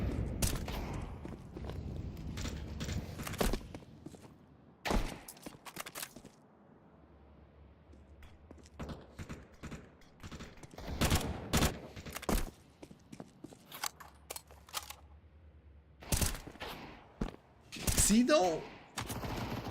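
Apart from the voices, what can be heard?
gunfire in the video game Counter-Strike, Deagle and Tec-9 pistols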